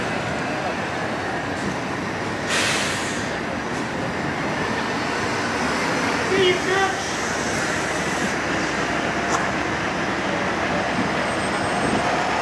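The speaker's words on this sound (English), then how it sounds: "Definitely runs on diesel fuel." A diesel prisoner transport van rumbling past outside downtown Los Angeles criminal courts, a broad steady engine and road roar with some passing traffic and a faint voice underneath.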